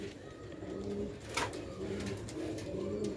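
Sialkoti and Ferozpuri pigeons coo in repeated low, throaty phrases close by, with a brief sharper sound partway through.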